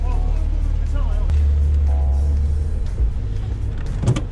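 A Porsche 991 GT3 RS Mk1 engine idles loudly after start-up, a deep, rough and steady rumble heard from close by under people talking.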